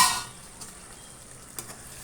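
Noodles, half a packet, stirred in hot oil in a pan: a brief sizzle at the start, then two soft scrapes of the utensil against a quiet low hiss.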